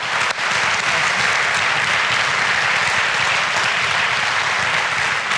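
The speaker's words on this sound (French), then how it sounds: "Et on les applaudit encore." Audience at a regional business awards ceremony applauding the winners: dense, loud, sustained clapping that holds steady from start to finish.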